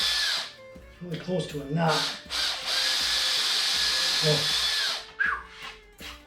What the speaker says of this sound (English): Don't get all worked up about where you're putting them, just drill them.